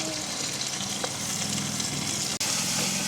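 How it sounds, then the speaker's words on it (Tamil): Chopped tomatoes hit a pan of sizzling fried onions and green chillies, a steady close frying hiss with faint stirring touches and one brief dropout near the end. "நாங்கள் வெட்டி வச்சிருக்கிற தக்காளி பழத்தை சேர்த்துக்கொள்ளுவோம்."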